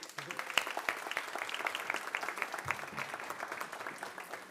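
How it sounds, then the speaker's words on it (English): Round of applause from the audience at a county school board meeting welcoming new teachers, steady dense clapping throughout with voices murmuring underneath. "And a huge round of applause."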